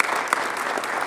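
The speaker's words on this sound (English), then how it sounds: "let's give him a round of applause" An audience at a church's annual meeting gives a round of applause for its communications volunteer, a brief burst of close, steady clapping from many hands.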